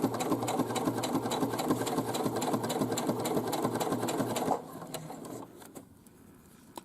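A sewing machine stitches a drawstring bag pocket hem with a rapid, steady mechanical chatter, close and continuous for several seconds before slowing and stopping, with faint clicks of handling afterward.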